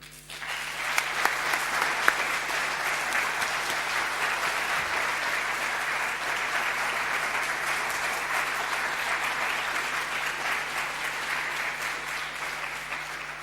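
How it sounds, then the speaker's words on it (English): Sustained applause from a large audience, dense and even clapping that starts abruptly and keeps going without letting up. "I really, really want a big applause for them because they deserve it"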